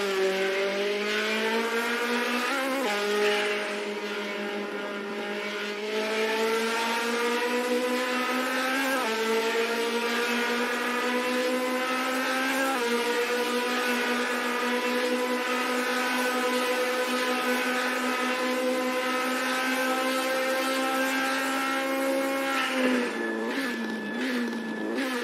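Race car engines in a virtual racing video game, a Mazda RX-3 among the field, droning steadily and loud with rising and falling pitch as cars shift gears, several engines blending together throughout.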